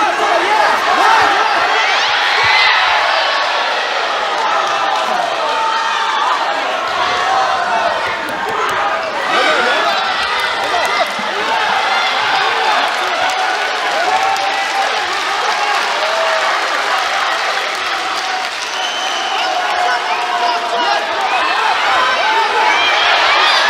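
Large arena crowd at a wrestling grand slam final screaming and cheering in a steady, dense roar that holds for the whole stretch, with scattered clapping mixed in.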